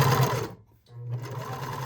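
Vintage sewing machine stitching knit fabric with a straight stitch, a steady close motor hum that stops briefly for about half a second, then resumes at an even pace.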